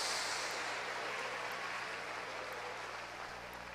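A church congregation applauds in worship, a broad steady roar of clapping heard from within the room, slowly easing in level with a low hum beneath.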